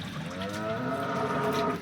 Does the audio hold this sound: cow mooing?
yes